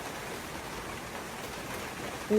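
Steady rain falls in a soft, even hiss close by, alone at first, before a louder sound cuts in at the very end.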